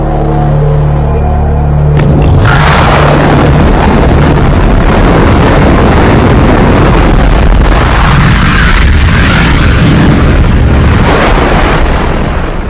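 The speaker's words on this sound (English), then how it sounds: "Scientists call this explosion the Big Bang" A huge cosmic explosion erupts after a quiet opening: a sudden loud burst around two seconds in, swelling into a sustained, dense rumbling roar that fills the rest of the stretch without letting up.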